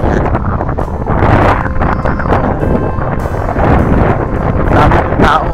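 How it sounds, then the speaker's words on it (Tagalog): Sea breeze buffets the microphone at a seaside mall promenade in Kuwait, a continuous loud rumbling gust noise with muffled crowd voices faintly underneath. "magandang simoy ng hangin"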